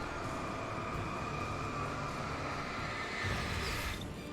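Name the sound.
train in video game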